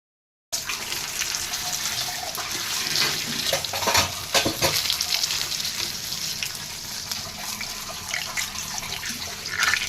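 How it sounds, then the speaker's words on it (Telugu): Stuffed brinjals frying in a pan give a steady, fairly loud hiss and crackle that runs throughout, with a brief burst of sharper spitting near the middle and no voices. "చూసారా వంకాయ ఎలా కాలిందో? అది అలా వేగుతుంది"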